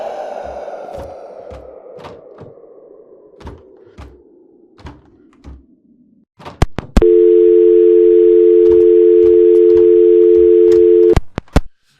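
A steady telephone dial tone drones loudly for about four seconds inside the video game Cursed Feed, after a series of soft thunks and a fading low hum, then cuts off abruptly with a click.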